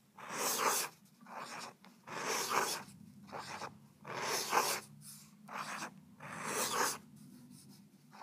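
A broad-nib fountain pen scratches across paper in a series of close rhythmic strokes, each a second or so long with brief pauses between, quiet and alone.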